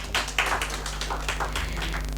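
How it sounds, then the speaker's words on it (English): Applause from a crowd at a fashion awards launch event in a hall, a steady patter of many hands clapping at moderate loudness for a couple of seconds, with an amplified low hum underneath. "Clap for yourselves."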